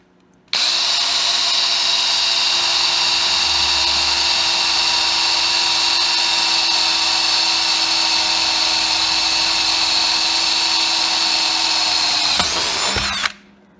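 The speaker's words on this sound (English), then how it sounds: "Drilled through it just as pretty as can be." A power drill whines loudly and steadily for about twelve seconds, boring through hardened steel of a broken tap, then winds down abruptly.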